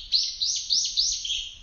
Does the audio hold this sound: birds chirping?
yes